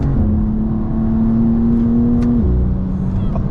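A 2024 BMW M2 pulls hard at full throttle, its engine a loud, steady droning note that holds and then drops sharply as it shifts up near the end.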